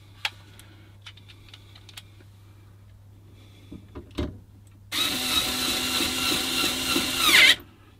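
Scattered clicks and small knocks come first, then a power driver whirs steadily for a couple of seconds. It is tightening screws on an added security fitting on the rear door of a Fiat Ducato campervan.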